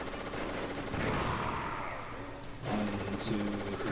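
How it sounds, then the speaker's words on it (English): Grenades are thrown over and over in Metal Gear Solid. Rapid rattling blasts come in dense bursts with short pauses between them, at a moderate level, and nobody talks. "grab the grenades, and then we just keep chucking them"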